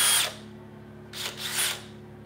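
Two short bursts of a power drill whirring during acrylic pouring work, a brief one at the start and a longer double burst after a pause, over a low steady hum.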